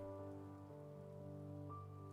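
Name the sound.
rain falling in Heavy Rain video game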